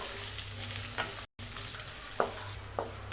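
Onion sizzles steadily in hot oil for tomato rice, a continuous close frying hiss broken by a brief dropout and a few soft clinks of stirring.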